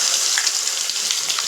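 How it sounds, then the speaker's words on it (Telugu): Ginger garlic paste hitting hot oil left from deep-frying chicken drumsticks, a loud, dense, steady sizzle with small crackles throughout, close by and without voices. "ఇప్పుడు ఇదే వేడి నూనెలో అల్లం వెల్లుల్లి పేస్ట్"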